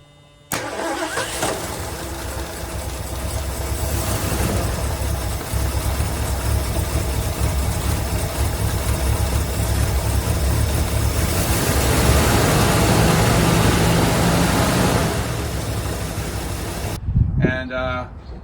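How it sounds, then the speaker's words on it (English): A 1976 Ford Granada, long stored under a carport, fires up with gas poured down the carburetor and a fresh battery fitted. The engine catches quickly and settles into a loud, steady idle close by, then cuts off abruptly near the end. "I did go over and put some gas down the carb and put a fresh battery in it, and it actually flashed up and started for the first time"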